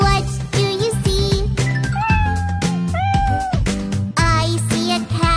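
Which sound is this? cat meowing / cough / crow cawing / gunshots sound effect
cat meowing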